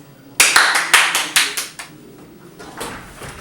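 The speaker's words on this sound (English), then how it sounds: "applause." Sparse clapping for a guest introduced as Frankenstein's monster, a handful of distinct, sharp hand claps in an uneven rhythm, close and fairly loud, thinning out after a couple of seconds with a few faint claps near the end.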